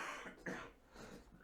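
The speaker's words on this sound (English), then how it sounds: "More coughing." A few quiet coughs and throat-clearing sounds in quick succession, close by and fairly soft.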